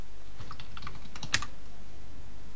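Typing on a computer keyboard, a quick run of light key clicks with one sharper tap, close against a steady background noise.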